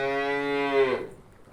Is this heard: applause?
no